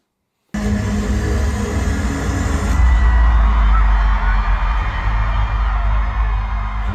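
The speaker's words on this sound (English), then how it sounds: "Crowd loving it." A crowd cheering and whooping in a music video, a loud sustained roar that begins abruptly after a moment of silence and continues without pause.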